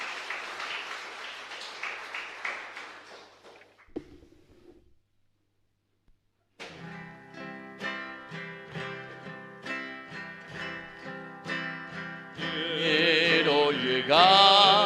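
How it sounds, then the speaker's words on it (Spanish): Congregation applauding at the end of a Catholic Mass in a chapel in Ñemby, a few seconds of scattered clapping that dies into silence before sung music with instruments begins. "Fuerte aplauso para el Señor."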